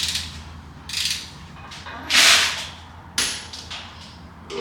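Ratchet torquing an engine rod bolt on an LS engine, heard as a few short, close, bursts of ratcheting clicks separated by brief pauses.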